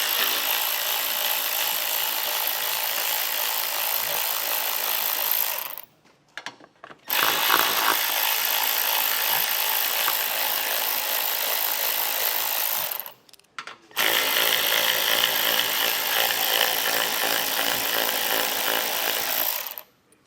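Three long, loud bursts of a power tool backing out 7mm screws from the air shutters of a 2019 Chevrolet Traverse, each whirring run lasting several seconds and separated by short silent pauses.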